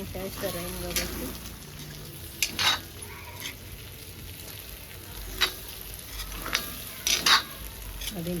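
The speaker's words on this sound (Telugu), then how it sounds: "ఇప్పుడు ఇది వేడింది కదా, ఇంకా కొంచెము ఫ్రై అవుతా ఉంది." An Andhra-style potato fry sizzles steadily in a pan, with intermittent louder scrapes and clacks as it is stirred, and a faint voice briefly near the start.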